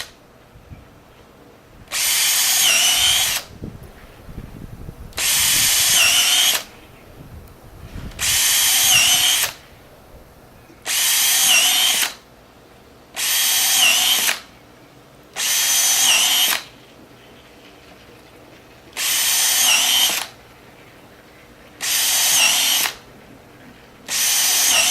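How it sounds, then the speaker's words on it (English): A power drill fitted with a center bit bores a series of holes in a solar collector kit, ten loud, high whining bursts of about a second or two each, separated by short quieter pauses with faint handling noise. "you want to insert that into your drill and then drill 10 holes for each of the collector"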